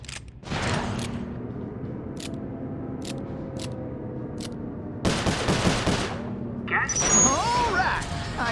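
Gunfire in Sly Cooper 4 comes as sharp, spaced cracks, followed by a denser burst of shots and impacts, amid game effects and speech.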